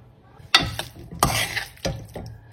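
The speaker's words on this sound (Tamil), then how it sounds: "இப்போ இதை நம்ம ஃப்ரை பண்ணி வச்சிருக்கிற காலிஃப்ளவரை போட்டு மிக்ஸ் பண்ணி விட்டுறணும்." Fried cauliflower stirred into Manchurian sauce in a pan, heard as three distinct clattering scrapes of a utensil against the pan separated by quiet gaps, close and fairly loud.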